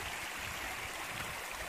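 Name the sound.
stream of water crossing a hiking trail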